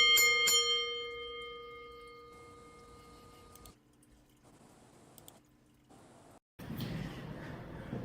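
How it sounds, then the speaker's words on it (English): A bell rung to close a wrestling talk show, struck once near the start with bright, ringing partials that decay slowly over a few seconds before a quieter stretch of room noise. "Ringing the bell and getting out of here."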